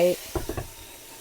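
Vegetables and mushrooms fry in a pan with a soft sizzle, broken by a few quick scraping stirs in close succession, fairly quiet and close.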